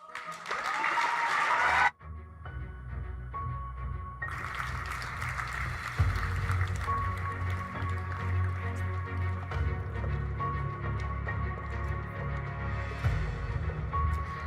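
Audience at an engineering excellence awards ceremony breaks into applause after a brief burst of clapping, then a sustained round of clapping fills the hall alongside music playing in the background.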